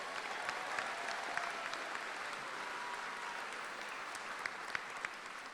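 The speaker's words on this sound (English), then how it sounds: "Can we give the staff and faculty a big round of applause?" Steady, dense applause from a high school commencement crowd honoring staff and faculty, loud and sustained throughout with no talking over it.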